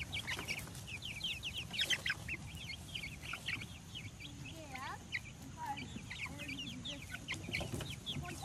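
Backyard chickens and a white rooster cluck and chatter steadily while pecking at freshly given grass, with people talking softly nearby.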